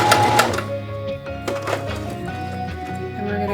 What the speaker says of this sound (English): We're not going to backstitch here, we're just going to sew off the edge.